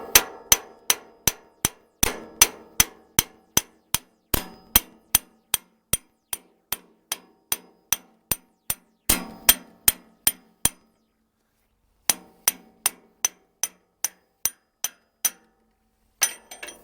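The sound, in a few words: hammering to drive a Troy-Bilt Horse tiller part downward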